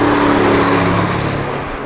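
A car on a flying lap at Monticello Motor Club roars past loud and close, its engine note holding steady then fading as it pulls away.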